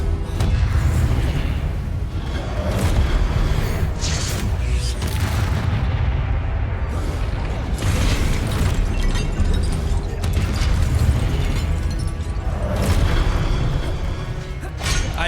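Repeated spell explosions from Confringo casts in the Hogwarts Legacy video game, booming bursts rolling one into another over a dense, loud battle din with no pauses.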